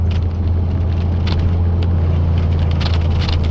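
A truck climbs a dark mountain road in Colorado before dawn, its engine a steady low rumble heard from inside the cab, with a few faint rattles and clicks and no talking.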